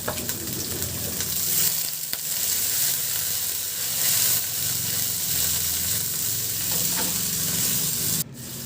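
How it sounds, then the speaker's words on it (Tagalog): Garlic and onion sauté in hot oil in a wok-style pan, a steady, close sizzle with occasional stirring scrapes running through the whole stretch, with no voices. "Magpainit muna ako ng mantika sa kawali at igisa ko na yung bawang. Isunod ko na rin yung sibuyas."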